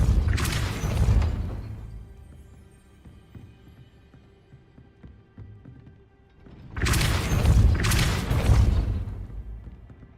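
Two Depulso force-push spell blasts in Hogwarts Legacy, each a heavy whooshing burst with a thudding, crashing impact, separated by several seconds of low, quiet ambient tones.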